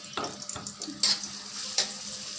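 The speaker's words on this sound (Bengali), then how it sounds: "দিয়ে দিলাম তেল, দিয়ে দেবো পরিমাণ মতো পেঁয়াজ কুচি, কাঁচামরিচ 4-5টা দিয়ে দিলাম" Chopped onion and green chillies dropping into hot oil, a brief crackling sizzle with a couple of sharp bursts and spatula clatter, no talking.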